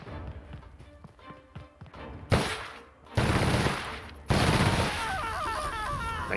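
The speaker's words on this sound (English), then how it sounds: "Somebody's still shooting at me?" Gunfire in the video game The Outer Worlds: loud, rapid bursts of shots in clustered volleys, growing heavier and more continuous over the moments, with a faint voice underneath.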